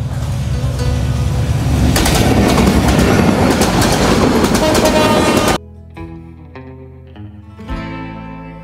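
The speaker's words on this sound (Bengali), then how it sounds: "একটি ট্রেন যাচ্ছে এখানটায়" A fast train rushing past an abandoned railway station at Naoti, a loud close rumble and rattle of wagons for several seconds that cuts off abruptly, followed by quieter tonal sounds.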